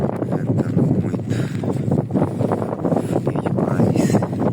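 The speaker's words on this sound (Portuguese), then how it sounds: "Ventando muito." Strong wind on a hilltop near a water tank buffets the microphone in a continuous, roaring rumble with gusty swells, loud and close, with no voices heard.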